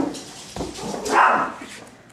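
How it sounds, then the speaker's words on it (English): A dog barks indoors in a home decorated for Christmas, a couple of short sharp barks near the middle, fairly close, with softer room sounds around them. "of course Archie's barking"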